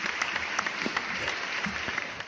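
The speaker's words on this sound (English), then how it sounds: "Round of applause." A live audience gives steady, fairly loud applause that runs continuously throughout, with no talking over it.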